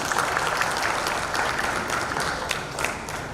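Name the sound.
audience applause for customers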